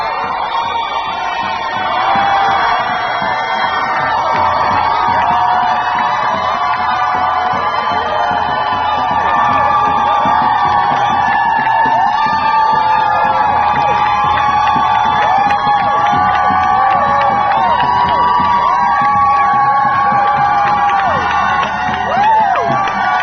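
A large crowd roars continuously, with shouting, whoops and cheering blending into a dense, loud wall of noise that barely lets up.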